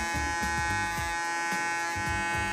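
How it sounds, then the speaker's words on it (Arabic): A Panasonic electric hair clipper hums loudly and steadily while cutting hair for a skin fade, its buzz close and constant with brief rhythmic changes in load as it moves through the hair. "صوت الماكينة شوي عالي."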